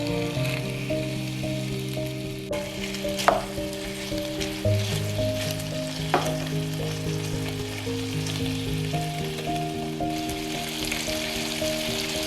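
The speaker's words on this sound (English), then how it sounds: "no need to add oil to the skillet. The fat rendered from the pork belly will serve as your cooking oil." Pork belly frying in a skillet in its own rendered fat, a steady sizzle with faint scraping stir sounds and a few sharp clinks, fairly quiet and with no talking.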